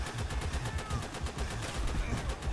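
Gunfire rattles through a WWII Pacific combat mission in a video game, repeated shots in an uneven, busy stream with heavy low thuds, loud and continuous from start to end.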